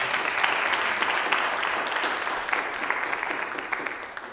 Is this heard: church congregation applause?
yes